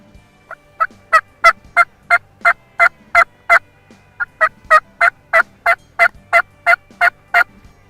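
Wild turkey yelping imitated on a diaphragm mouth call, two runs of about a dozen evenly spaced, sharp, loud yelps close to the listener, with a brief pause between the sequences and no talk.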